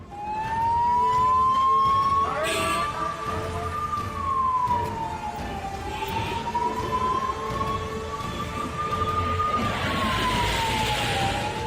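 An ambulance stuck in a long traffic jam at the Singhu border near Delhi, during a farmers' protest, sounds a loud wailing siren that rises and falls slowly, with traffic rumble and horns beneath it.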